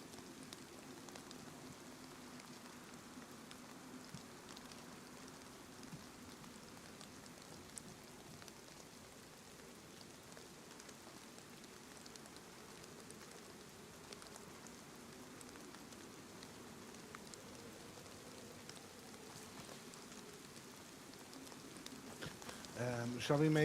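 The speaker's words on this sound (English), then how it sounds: "Oh no, the rain comes from the wrong side." Rain falling in the video game DayZ, set in Chernarus, a faint, steady hiss of drops on the ground that continues unchanged throughout, with a slight rise in level at the very end.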